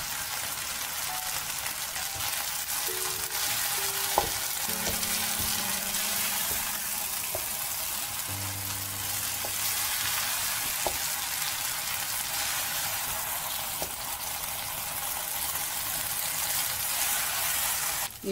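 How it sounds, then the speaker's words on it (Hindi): Boiled vegetable chow mein noodles being stir-fried with sauce in a hot pan, a steady broadband sizzle running throughout with a few soft knocks and scrapes of stirring, close and moderately loud, no talking. "बॉईल किया हुआ हमारा ये चाउमीन है, उसे हम धीरे धीरे इसमें मिला लेंगे।"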